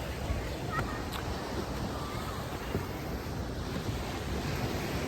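Sea waves wash onto the beach at Pattaya in a soft, steady roar, fairly faint and broad, with wind buffeting the microphone and no clear talk over it.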